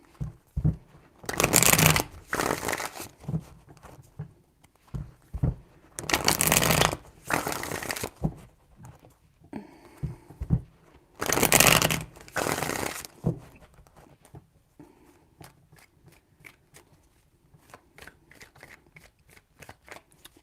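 A deck of tarot cards is shuffled in several quick riffling bursts separated by pauses, close and crisp, followed by softer handling and light card taps.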